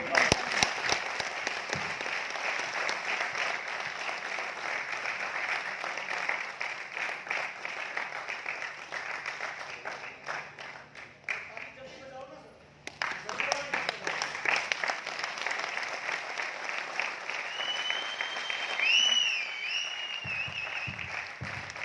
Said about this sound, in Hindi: ताली बजा लीजिए एक बार